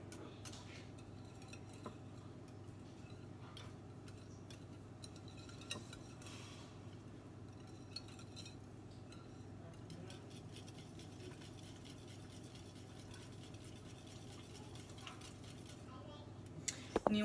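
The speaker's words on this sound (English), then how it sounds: "we will whisk these as well" Eggs for pumpkin pie are whisked in a bowl, a quiet, fast run of ticking metal-on-bowl taps that carries on steadily and stays faint throughout.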